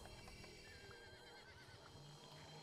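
A horse neighs and whinnies in the Ultima Online video game, a quiet, clear call over a faint background hum with a few soft hoof clops.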